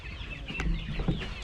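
Three-month-old Rhode Island Red hens cluck in short, close bursts against a steady farmyard background, with no talking.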